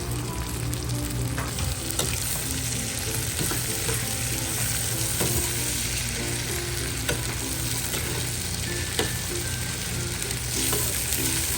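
Shrimp sizzling and bubbling steadily in seasoned garlic butter with pepper, a continuous close frying hiss with occasional soft clicks of stirring, no voices.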